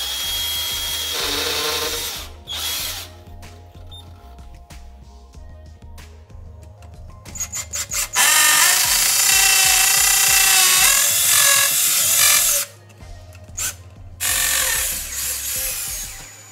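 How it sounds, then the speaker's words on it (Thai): A cordless power drill with a built-in light bores into a lightweight concrete block, loud whining bursts starting and stopping, the longest run lasting several seconds, with no talking over it. "อันนี้เจาะปูนนะครับอันนี้เป็นอิฐมวลเบาก็จะเจาะได้เร็วมาก"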